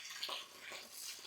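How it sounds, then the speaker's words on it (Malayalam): Water poured over garden plants makes a soft, steady splashing stream, faint and continuous throughout with no voices. "ചെടിക്ക് വെള്ളം ഒഴിക്കുന്നു."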